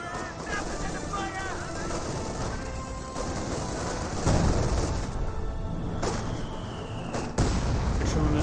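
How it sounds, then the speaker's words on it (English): In Company of Heroes 2, a 120mm mortar fires rounds with heavy crashing booms and a few louder blasts, all under steady commentary talk. "The 120mm mortar fires some rounds"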